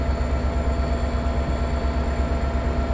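A train moves along the Peninsula Corridor in Train Sim World 2020, giving a steady, close, droning engine rumble with a faint tonal whine, unbroken throughout.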